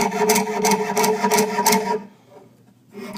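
Jeweler's saw cutting through metal, close and loud, with about five rhythmic rasping up-and-down strokes before the sawing stops and a faint scrape follows.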